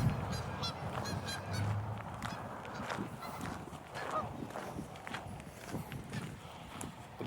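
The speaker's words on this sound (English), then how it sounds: "Looks like we are the home of some migrating geese right now." Migrating geese honk around a baseball field, a busy, overlapping chorus of calls at mid distance with background shuffling and outdoor noise throughout.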